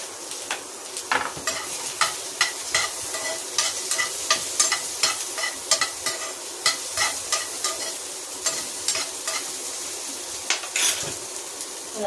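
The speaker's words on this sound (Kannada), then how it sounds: "ಈರುಳ್ಳಿ ಹಾಕ್ತೀನಿ ಈಗ" Onions sizzle and fry in a pan for a festive Ugadi dish, with a spoon repeatedly scraping and stirring in a steady, close rhythm of clinks and scrapes over the continuous hiss.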